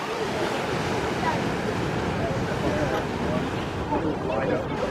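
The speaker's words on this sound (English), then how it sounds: "This is the Atlantic Ocean. That's why the water is like choppier." Choppy Atlantic Ocean waves wash and break in a steady, loud roar, with wind buffeting the microphone throughout.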